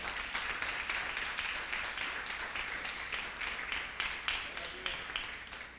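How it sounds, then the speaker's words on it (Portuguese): A church congregation applauds during a service, many hands clapping in a steady, rhythmic beat that fills the room, with a voice speaking over the clapping. "aplauda o Senhor porque Ele é bom"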